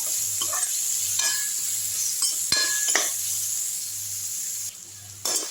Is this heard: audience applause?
no